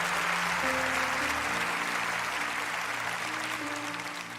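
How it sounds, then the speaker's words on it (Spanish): Applause from a church congregation during a sermon, a dense wash of clapping with faint sustained organ or keyboard tones beneath, slowly fading. "dale un aplauso al Señor en esto."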